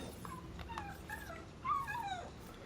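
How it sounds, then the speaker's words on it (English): Dog whimpering in the Destiny 2 video game while being petted: soft, high whines and yips that rise and fall over a quiet game backdrop, with the loudest whine near the end. "first I'm gonna pet the puppy"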